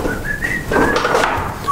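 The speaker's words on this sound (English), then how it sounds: "I'm gonna start whistling this song" Someone whistles a short song melody, the tune rising and falling over a bed of background noise with a few faint knocks, close and fairly loud.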